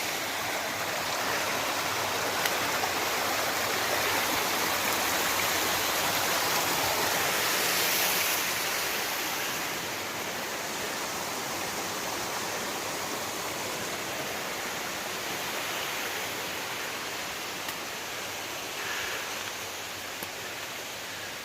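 A mountain stream rushes steadily along a Himalayan trek trail in the Dhauladhar range, Himachal Pradesh, a broad, constant wash of flowing water heard close and loud throughout with no voices.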